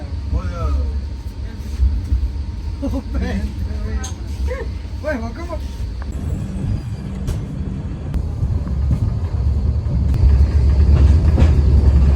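People talk inside a running train bound for Delhi over its steady rumble, which grows louder and fills the sound once the voices stop.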